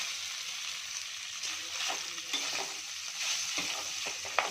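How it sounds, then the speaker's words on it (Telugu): A bowl of cooked rice is stirred into fried seasoning for tamarind-pickle pulihora, a soft sizzle under muffled scraping and turning, with a sharp knock near the end and no talk. "ఒక బౌల్ అన్నం వేసుకొని కలుపుకోవాలి"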